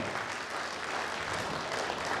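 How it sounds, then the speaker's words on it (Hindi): Loud, steady applause from an audience at an honour ceremony in a college hall, dense and continuous throughout with no voices standing out. "Shri Chandelkar sir, PG college, जोरदार तालियां।"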